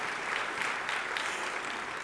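Steady, dense applause from a luncheon audience, the clapping continuous and even throughout with no voices standing out.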